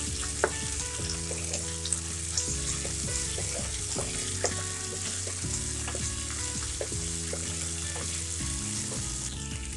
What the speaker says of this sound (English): now I'm gonna add 1 teaspoon of ginger garlic paste in this and fry this well